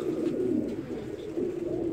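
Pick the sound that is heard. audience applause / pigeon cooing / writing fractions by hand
pigeon cooing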